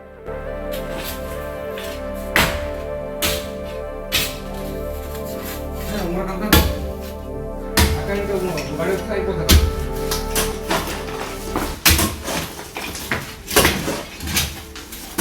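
Workers dig up and break apart a hard stone courtyard floor: irregular sharp knocks and impacts ring out, some louder than others, against a steady background while people talk over them.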